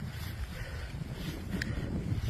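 Steady wind gusting across an open glacier in cold, misty drizzle, a continuous low roar with broadband rushing and some microphone buffeting, no voices.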